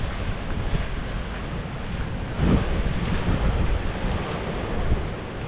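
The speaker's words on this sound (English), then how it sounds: "it's gonna be rainy, windy, and boring." Rainy, windy weather on an outdoor walk with a German shepherd: a constant loud rush of wind buffeting the microphone, with a brief stronger gust midway and no talk.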